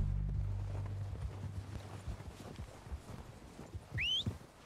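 Horse hooves clip-clop along in Red Dead Redemption 2, a steady run of soft, fairly quiet low thuds, with a brief whistling call near the end.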